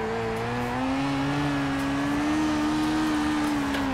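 A BAC Mono race car in Project CARS drifts through a corner at Oschersleben, its engine droning loud and sustained with a slowly rising pitch and a faint tire squeal, no talk.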